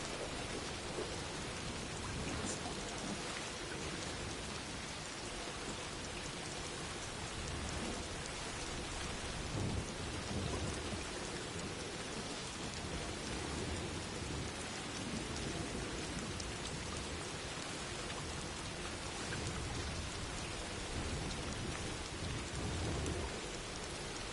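Steady heavy rain with rumbling thunder underneath in the video game Death Stranding 2, a dense continuous wash of sound with no voices.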